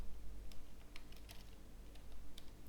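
Steady clatter of keys on a computer keyboard, close and fairly quiet, with irregular bursts of fast strokes and no voices over it.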